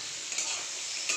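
Peas, potatoes, onion, carrot, green chilli and cauliflower fry in a pan with a steady, close, moderately loud sizzle, a couple of small stirring bumps breaking the continuous hiss.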